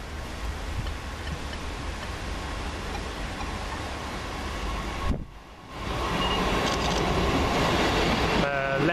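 A train arriving at Beeston railway station, a steady loud rumble of wheels on rails with rhythmic clicking, a brief dip partway through, then the rumble resumes with a faint squeal near the end.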